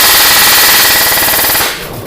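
An airsoft gun fires on full auto at an Acetech target system: a loud, rapid, continuous burst of shots lasting under two seconds, then stopping abruptly.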